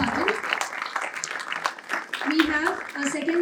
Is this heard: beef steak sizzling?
no